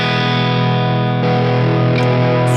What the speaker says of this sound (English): So you have different grades of distortion and crunch.